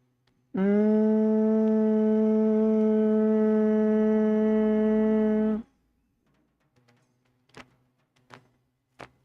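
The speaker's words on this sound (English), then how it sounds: "Inhale and exhale with a humming sound." Steady, resonant humming breath of Brahmari Kumbhaka pranayama, one unbroken bee-like hum lasting about five seconds, then near silence with a few soft clicks.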